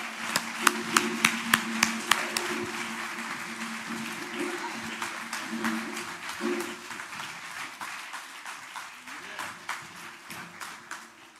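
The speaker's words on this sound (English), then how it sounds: "Please give Lee Merritt a round of applause." Applause for an award winner at a Malcolm X Day event, opening with a few sharp, loud claps near the microphone before a broader crowd applause swells and slowly thins, with some faint talk in the background.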